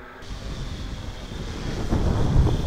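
Gusty wind buffets the microphone outdoors during drone flying, in rough, low rumbling gusts that build toward the end, with no voices.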